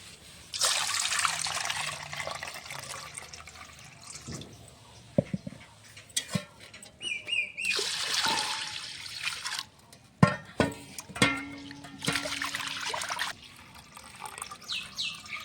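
Red lentils being rinsed in water, with splashing and trickling pours in bursts, scattered clinks and pauses between rounds of washing; no talking.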